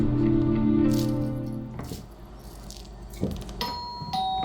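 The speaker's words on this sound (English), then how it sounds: "Okay, we got somebody ringing the doorbell." A doorbell in a video game chimes with a ringing tone that decays over a couple of seconds, followed by a few softer knocks and clicks and a later higher chime.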